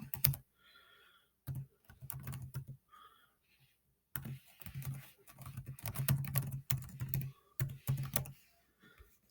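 A username being typed on a computer keyboard, bursts of quick clicking keystrokes separated by short pauses, close and clear with no talking.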